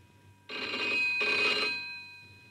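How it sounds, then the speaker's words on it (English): A cartoon telephone bell rings in two loud, close bursts with a brief gap between them, then falls silent. "Oh, no, it's the telephone."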